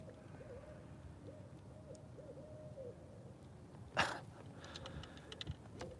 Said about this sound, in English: You can hear the owl.